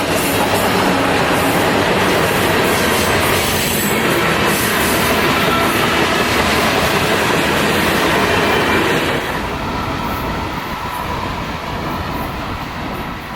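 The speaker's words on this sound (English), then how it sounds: "Today's train is led by both BR-20Bs with their 4 loaded center beams in tow." A New York and Atlantic Railway freight train led by two BR-20B locomotives hauling four loaded lumber center-beam cars rumbles past close by, a loud, steady roar of wheels and rail noise that eases slightly toward the end.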